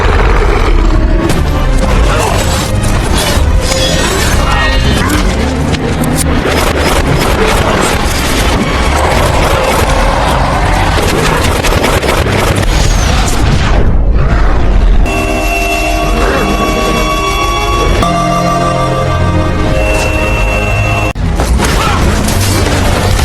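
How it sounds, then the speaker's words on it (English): Gunfire is aimed at the Hulk during a brutal movie fight with the Abomination, a loud, dense barrage blended with heavy booms, crashes and a thick soundtrack throughout. "Shots will appear on Hulk. Emil shooting at him."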